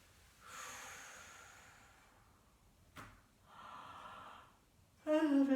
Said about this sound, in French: Vous avez bien baillé